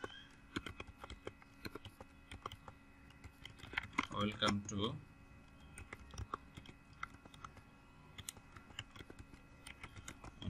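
Keys clatter steadily on a computer keyboard while a YouTube channel description is typed, a dense run of light clicks with a louder burst midway as someone speaks briefly.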